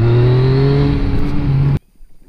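A sport motorcycle accelerates hard in third gear, its engine droning loud and close with a slowly rising pitch before cutting off abruptly.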